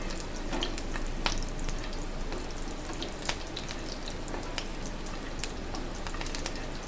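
Steady crackling and spitting of whole spices tempering in hot oil for a fish curry, close and continuous, with sharp pops scattered throughout.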